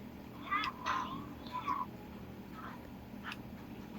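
A domestic cat meows several times at close range in a home, a few short drawn-out calls with pauses between them, against a steady background hum.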